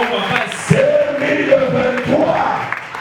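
A church congregation cheers and acclaims at full volume, a loud, continuous mass of shouting and whooping voices that swells in waves throughout.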